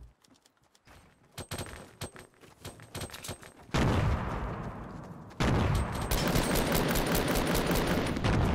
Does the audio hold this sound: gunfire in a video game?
yes